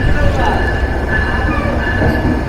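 Nilsagar Express train standing at Ibrahimabad railway junction, with a loud steady rumble, a sustained high whine and faint clatter filling the whole stretch, while a voice speaks over it.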